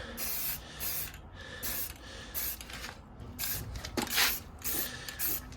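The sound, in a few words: spray can of primer spraying truck under panel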